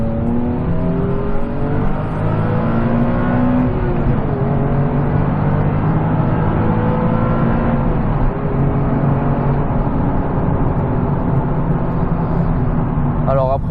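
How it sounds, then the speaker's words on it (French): A 2009 Nissan 370Z in sport mode revs high, its engine note rising and falling through steady, loud, close harmonics from inside the cabin, while someone talks over it. "Ça monte dans les tours, en fait on est tout le temps dans les tours quoi."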